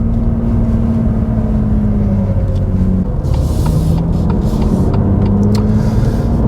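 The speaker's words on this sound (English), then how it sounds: "let's have a proper drive of this car and get a feel for that differential" BMW M2 Competition with Active M Differential driven briskly on a road, engine droning steadily with a gear change midway, recorded from inside with road rumble underneath and no speech.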